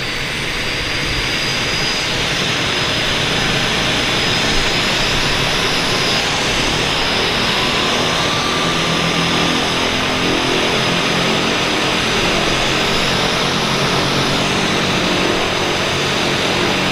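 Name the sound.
Twin Otter turboprop plane departing from harbour airport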